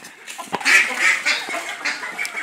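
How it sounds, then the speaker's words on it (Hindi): A duck honks and quacks repeatedly at close range during a scuffle with Aseel roosters, harsh calls coming in a rapid series with some flapping noise. "ये देखे डक ने हमला कर दिया।"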